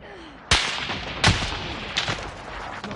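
Gunfire in Call of Duty: Modern Warfare: three sharp, loud shots roughly three-quarters of a second apart, each with a ringing tail, over a steady background din of battle.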